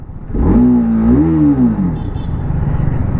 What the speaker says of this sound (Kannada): ಎಕ್ಸಾಸ್ಟ್ ಸೌಂಡ್ ಈ ಥರ ಕೇಳಿಸುತ್ತೆ